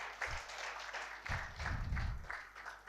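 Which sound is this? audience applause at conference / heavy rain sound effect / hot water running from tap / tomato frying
audience applause at conference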